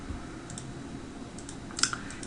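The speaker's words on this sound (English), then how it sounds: "I can continue adding people in this fashion by just typing their name inside" Typing on a computer keyboard while entering names into a search box in alert-setup software; a few scattered, faint keystroke clicks, with one slightly louder tap near the end, over quiet room noise.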